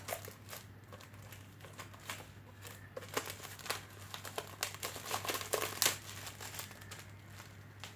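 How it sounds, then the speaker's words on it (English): Shrink wrap being peeled and crumpled off a new herbal tarot guidebook, giving close, soft crinkling and tearing rustles that come in irregular bursts over a low steady hum. "So it's shrink wrapped, so I just need to. So I finally figured out how to unwrap this."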